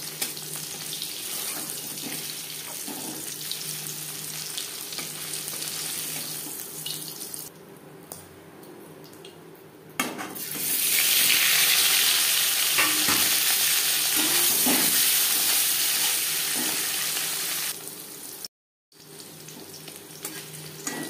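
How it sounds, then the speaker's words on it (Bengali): Paneer frying in oil in a kadai for a vegetarian potato and paneer curry, heard as a loud continuous sizzling hiss with occasional stirring clicks, briefly quieter midway and cut by a short silence near the end. "দুবারে আমি পনির ভেজে নিলাম"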